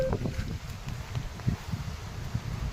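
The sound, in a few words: strong hurricane wind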